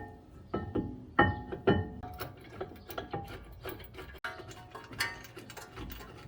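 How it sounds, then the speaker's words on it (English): Ratchet wrench tightening the 21mm brake caliper bolts on a supercharged 2014 Audi Q5, a close series of quick clicking strokes with a few sharper metallic knocks, no voices. "Install the caliper with the two 21mm bolts."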